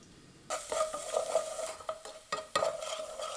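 Garlic sizzles and crackles in a hot pan while a utensil stirs it, giving soft scraping strokes over the steady frying hiss.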